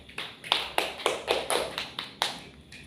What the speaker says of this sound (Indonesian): kita beri aplaus untuk presentasi kelompok 1